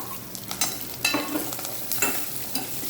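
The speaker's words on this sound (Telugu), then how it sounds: "ఒక కొబ్బరికాయ వేసి కొంచెం లైట్గా అట్లా వేగిద్దాం" Grated coconut is lightly fried and stirred in a pan for a coconut chutney. A soft sizzle runs underneath, and a spatula scrapes the pan in several brisk, uneven strokes, close and with no talking.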